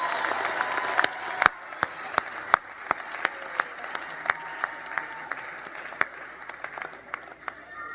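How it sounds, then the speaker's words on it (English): At a fall business school commencement, a large audience applauds in a soft, distant wash of clapping, with a few sharp nearby claps standing out at irregular intervals. "another round of applause for all those who have supported them"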